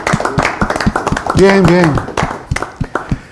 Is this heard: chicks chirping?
no